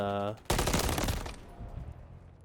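Gunfire in a gunfight in the Modern Warfare 3 video game, a loud rapid burst of automatic shots right after a short tone, fading into a rattling tail and quieter scattered pops.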